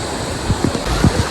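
Rushing water from a waterfall at Tamasopo, Mexico, where swimmers head into the cold pool. It is a steady broadband roar throughout, with a few soft low bumps over the short stretch.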